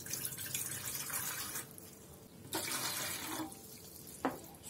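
Water pours into a bread machine pan while making toast bread, a steady close splashing stream that pauses briefly twice before resuming, with no talking.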